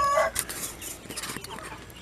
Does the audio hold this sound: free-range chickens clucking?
yes